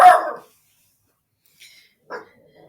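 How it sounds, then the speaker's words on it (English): A dog barks once loudly and close, followed after a pause by two fainter short yips or whimpers in otherwise quiet surroundings. "all sorts of fun with a barking dog"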